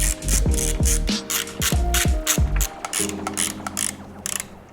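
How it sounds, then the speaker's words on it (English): A ratchet clicks out 3mm screws on an E-Ride Pro electric motorbike, giving several quick bursts of close, loud ratcheting with brief pauses between them, then a steadier whirring drive toward the end, with no talking. "I'm gonna go ahead and take the 3 screws out"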